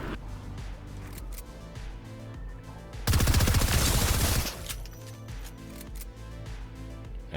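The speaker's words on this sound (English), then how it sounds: "Oh, the pulse rifle takes out 500 HP." Pulse rifle gunfire in the Fortnite video game, a dense rapid burst of shots lasting about a second and a half, loud against a softer background of game music and sounds.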